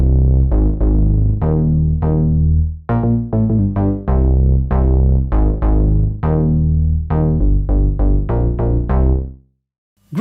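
The TR Analog Instability synth bass preset in Reason 9.5 plays a deep, fat line of repeated plucked notes in a steady rhythm for about nine seconds, loud and alone before it cuts out.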